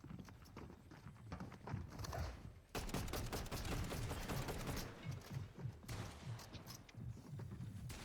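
Pump shotgun blasts and other gunfire in a video game, a dense barrage of loud repeated shots that runs almost without a break for several seconds.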